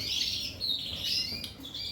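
A breeding pair of small cage birds, miniature mule finches, chirp in quick high tweets and short warbling phrases, close and clear with no talk.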